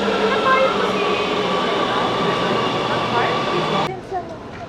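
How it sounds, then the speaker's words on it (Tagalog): A train pulls into a station in the Netherlands with a loud, steady rumble and rail hum that cuts off abruptly near the end. Voices may be faintly audible in the background. "Ito na yung train natin."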